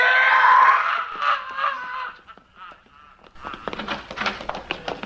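A loud, sustained scream in a radio drama, a shrill cry that fades out, followed by fainter clattering noise and brief voices.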